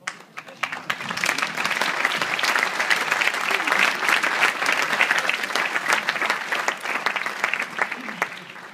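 Audience at a charity gala evening breaking into sustained applause that starts quickly, holds dense and loud for several seconds, then tapers slightly at the end.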